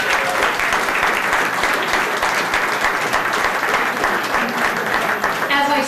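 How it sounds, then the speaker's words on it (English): An audience at a chamber of commerce awards ceremony gives a sustained round of applause for the sponsors, dense steady clapping throughout with faint voices mixed in. "Big round of applause for our sponsors tonight,"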